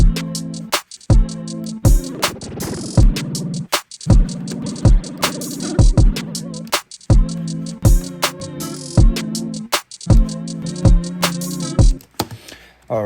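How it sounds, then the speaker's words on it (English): A melodic sampled loop with tape saturation and wobbly wow repeats in short chopped phrases, harmonic tones cut by brief silent gaps, loud and alone. "a bit of that good old tape saturation as well. And a little bit of the wow."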